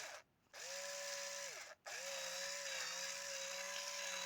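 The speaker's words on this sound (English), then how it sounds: "You just move the drill around a bit to make the hole bigger and cut off some of that stuff." A whining drill motor boring a hole in soft PVC runs nearly nonstop, briefly cutting out twice, its pitch steady and close by, fairly quiet overall.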